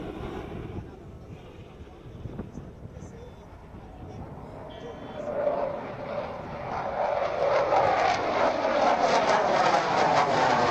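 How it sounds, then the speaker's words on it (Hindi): Fighter jets landing on the Ganga Expressway during an air force show near Shahjahanpur, a jet roar building from distant to loud and sustained through the second half, with a voice speaking earlier. "ये देखिए फाइटर जो जेट्स हैं किस तरीके से लैंड कर रहे हैं"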